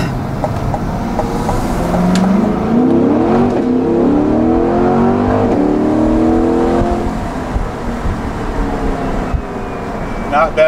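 A 2020 Chevrolet Corvette Stingray 1LT convertible, mid-engine and rear-wheel drive, accelerating hard, its engine note climbing loud and close through several rising pulls over roughly ten seconds.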